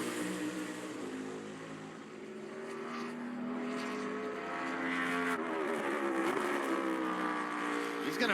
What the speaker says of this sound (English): Here's the second with Michael McDowell on the track.